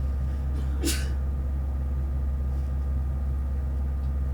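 A single short, sharp sneeze rises over a steady low engine hum, with nothing else happening before or after.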